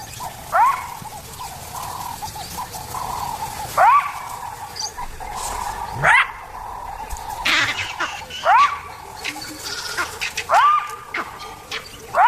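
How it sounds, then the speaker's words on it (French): Jackals bark in the wild on a leopard island, several sharp calls repeating roughly every two seconds and standing out over a steady bed of distant animal cries that fits green monkeys calling far off. "Aux aboiements des chacals font écho les cris des singes verts qui se font entendre dans le lointain."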